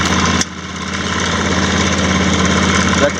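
A 2017 John Deere X350 lawn tractor engine runs steadily at close range, a loud, even mechanical drone with a slight throttle change near the start.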